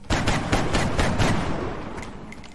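Covering gunfire in the video game XCOM Long War, a loud burst of rapid overlapping shots hammering for about two seconds before trailing off into a few faint pops.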